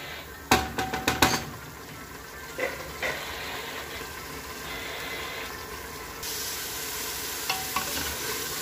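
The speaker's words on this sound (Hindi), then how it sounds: "अब हम इसको फिर से अच्छी तरह से भून लेंगे ऑयल के साथ" Meat and bitter gourd fry in oil in a pan, with a steady sizzle under a few sharp clattering stirs early on and scattered spoon knocks later, close and alone with no talking.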